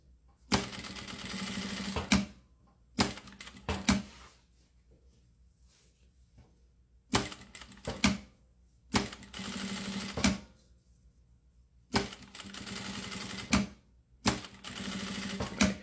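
Sewing machine stitching a cube-shaped toiletry bag, running in several short bursts of rapid whirring with quiet gaps between them, near and clear.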